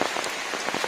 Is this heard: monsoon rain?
yes